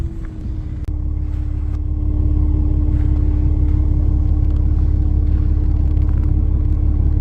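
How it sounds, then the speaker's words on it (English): A truck approaches on a road outdoors, a loud steady low rumble with a sustained engine drone that builds slightly and holds close. "here comes the truck"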